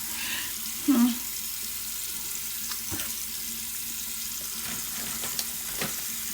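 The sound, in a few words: water running from a tap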